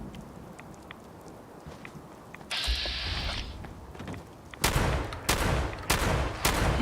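A shotgun fitted with a knife, fired in the Fallout 4 Far Harbor DLC against fog ghouls: loud, repeated blasts near the end, preceded by mechanical clicks and creaks of weapon handling.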